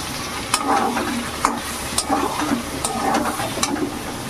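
Potatoes and pointed gourd fry in oil with ground spice paste and cumin paste, giving a steady close sizzle broken by repeated scraping stir strokes of a spatula against the pan.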